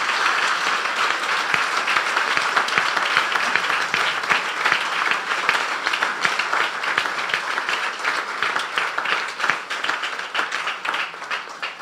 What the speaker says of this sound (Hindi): अगर आपको बरकत मिल रही है तो यीशु के जलाल के लिए जोरदार तालियां।